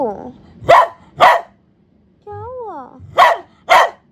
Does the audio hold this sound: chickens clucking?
no